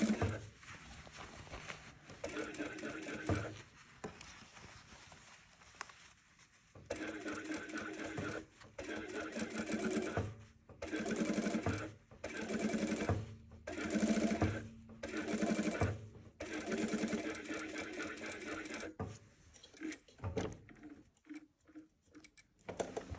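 Sewing machine stitching a welt pocket on pressed fabric, running in repeated bursts of rapid needle clatter with short pauses between runs, close and steady.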